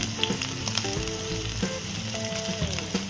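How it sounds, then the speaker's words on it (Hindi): Garlic and green chili frying in a pan for Indian-style veg fried rice give a close, crackling sizzle with repeated spatula scrapes and clicks in an irregular rhythm, and no talking. "गार्लिक डालेंगे, इसे हल्का सा भूनेंगे। हरी मिर्च भी डाल देंगे"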